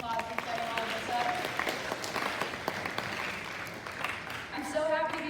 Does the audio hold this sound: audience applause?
yes